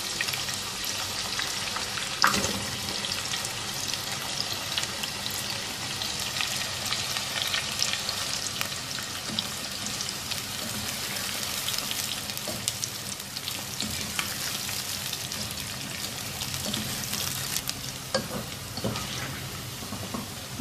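Sliced onions frying in hot oil until golden brown, a loud continuous crackling sizzle with occasional sharper pops and stirring scrapes throughout.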